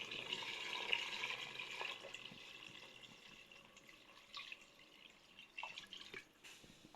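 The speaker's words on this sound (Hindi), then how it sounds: "अब हम इसमें पानी डालने लगे।" Water pouring into a pot of porridge being cooked, a steady, soft splashing stream that tapers into lighter trickles and drips toward the end, heard alone.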